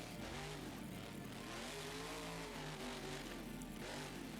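Monster truck engine in BeamNG Drive with a 3-speed gearbox, holding a steady, droning rev with shifting harmonic pitch throughout, loud and continuous without talk.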